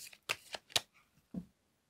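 Tarot cards shuffled during a reading: a few quick, faint papery flicks and snaps, followed by a soft final tap as the deck settles.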